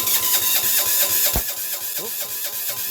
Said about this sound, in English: Oops, a little bit of a backfire.